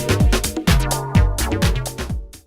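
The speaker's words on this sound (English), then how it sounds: "Many FM synthesizers also give you basic options to use additive synthesis, which can also be used to create some nice bass sounds like this one." Synth bass built with additive synthesis on an FM synthesizer, a thick buzzy bass line with pitch-dropping notes pulsing in a steady groove over a backing beat, loud and without speech.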